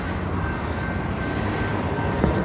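Railroad train rolling past nearby with a continuous broadband rumble of wheels on track and faint metallic squeal, steady and loud throughout with no talking.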